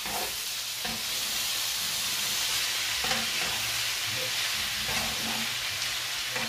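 Broad beans sizzle steadily in a frying pan for a Turkish-style dish, with intermittent scraping and clacks from stirring over a continuous loud frying hiss; no talking.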